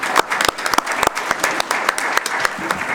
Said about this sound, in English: Can we get a round of applause for the Anchor Bay Junior ROTC?